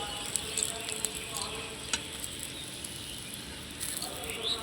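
Chopped carrot and capsicum frying in a pan, with a steady soft sizzle and occasional scraping taps as the vegetables are stirred, fairly quiet and continuous.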